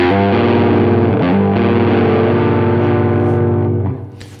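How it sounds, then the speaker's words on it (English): A heavily distorted electric rhythm guitar, with no delay, rings out in a thick sustained chord that holds loud and steady before fading at the end. "a really rich rock guitar sound with a rhythm guitar, only distortion, no delay"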